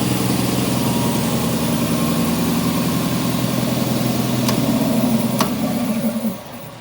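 Small Quincy air compressor pump running steadily and fairly quietly with an even mechanical drone and vibration, close by, alone, winding down near the end.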